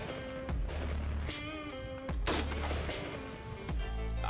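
Precision rifle shots at a U.S. Marine Corps marksmanship competition, several sharp loud reports at irregular intervals, each followed by a booming ring over steady range noise.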